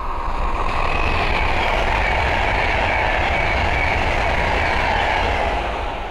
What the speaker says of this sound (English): the next train to pass by is an Adventure West Coast Class 390 Pendolino.